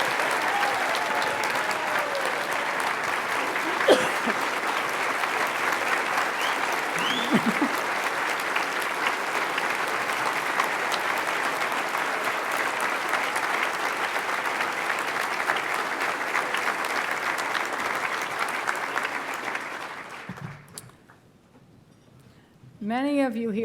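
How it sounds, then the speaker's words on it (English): A ballroom audience at a Profile in Courage Award ceremony gives a long, steady round of applause for Michelle Obama and political spouses, with a brief voice at the start, then a sudden fade and a voice at the end. "I would like if we could offer a round of applause for First Lady Michelle Obama and for all the political spouses here tonight"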